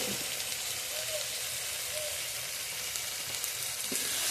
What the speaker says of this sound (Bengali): সব একসাথে ভালো করে কষানো হবে এবার।